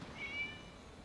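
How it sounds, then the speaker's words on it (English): A single faint, thin meow from a cat in Genshin Impact rises briefly against quiet game ambience. "It was just a cat."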